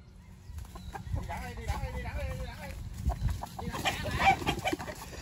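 Chickens cluck and squawk at a coop as people try to catch them, the fowl calls fairly close amid scuffling, with people talking over them throughout.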